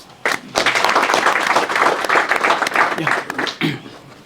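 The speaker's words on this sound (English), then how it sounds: "May we give him a round of applause?" A crowd applauds at a homecoming welcome for a boxing world champion in South Africa, clapping breaking out suddenly and continuing strongly, with a few voices and a brief dip before it trails off.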